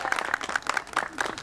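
Brief, scattered clapping from a small outdoor crowd at Music Box Steps Day in Silver Lake, Los Angeles, honoring Eric Garcia, with voices faintly mixed in.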